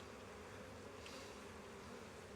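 A honey bee swarm on a Russian Scion hive drones in a dense, steady buzz that holds at an even level throughout, with no voices.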